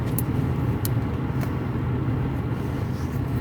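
A parked car idles on a freezing 21-degree day, a steady low engine rumble with faint road-like noise beneath it, constant and close for the whole stretch, with a few brief high clicks near the start.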